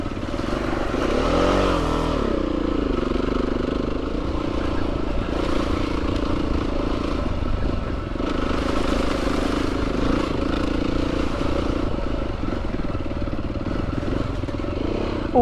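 Motorcycles on road tyres rumble steadily through puddles on Salisbury Plain near Stonehenge, engines droning close by with splashing and clattering over the continuous noise and no talking.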